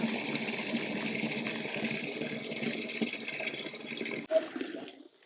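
Water runs steadily into a mixture of salt and aluminium sulfate for tanning a sheepskin, a continuous rushing pour close to the listener that cuts off abruptly near the end, followed by a brief splash.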